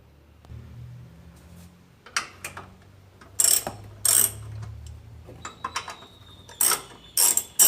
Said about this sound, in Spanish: Ahora vamos a proceder a sacar con el tubito número 13 estos dos tornillos de acá